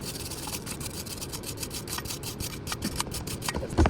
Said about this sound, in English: So hitting it with brake cleaner, then I'm gonna hit it with the wire brush.